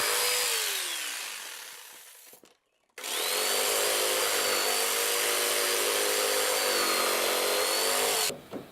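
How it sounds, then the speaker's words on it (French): A jigsaw cuts notches into glued laminated wood for a beam, a loud close buzzing cut that winds down, pauses briefly, then runs again steadily for several seconds before stopping. "Une fois sec, je réalise à la scie sauteuse des entailles qui vont me permettre de glisser mes différentes"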